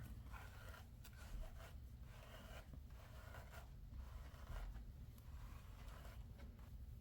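Soft, steady brushing strokes rasp against hair in a quiet room, a continuous scratchy swish with slight rhythmic pulses.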